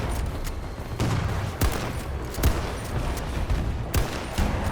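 Gunfire in Battlefield 2042, rapid repeated shots and sharp cracks over a dense, loud rumbling battle background, fairly close with no break in the noise.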